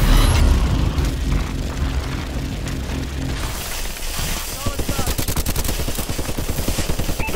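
A Vulcan in a Call of Duty match fires a long, rapid stream of gunfire that rattles on for several seconds after a few moments of rumbling battle noise.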